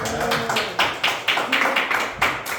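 A small church congregation claps together in a quick, steady rhythm for a few seconds, nearby and without talk.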